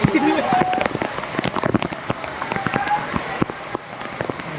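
Rain falls in the hills near Khoiyachara Waterfall in Sitakunda, pattering steadily with scattered sharp drops and splashes, under nearby voices talking.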